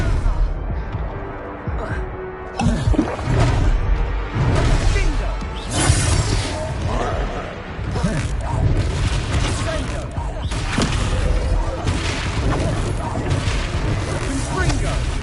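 Confringo fire spell explosions during a Hogwarts Legacy battle, a rapid series of booms and whooshing blasts with shattering impacts, loud and dense, mixed with voices and game effects throughout.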